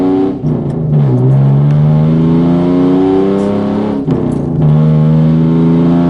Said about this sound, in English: Listen at this Subaru.